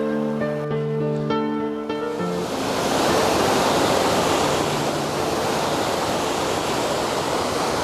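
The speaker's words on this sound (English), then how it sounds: "This river flows from those glaciers on Mount Robson." A river fed by the glaciers of Mount Robson rushes in a loud, broad, continuous roar, rising in after a brief fading tone and holding steady with no voices.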